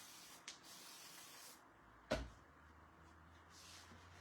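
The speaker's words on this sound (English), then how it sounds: "Let's give this a spray." A spray bottle mists a kit frame outdoors, giving a few short, soft hissing spritzes. A sharp knock or clunk comes partway through, and the scene is otherwise quiet.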